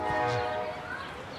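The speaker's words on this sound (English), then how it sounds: "So the sound of trains become part of the kind of architectural experience." A train horn sounds briefly nearby, its harmonic blare fading over a second and a half against the rumble of a passing train.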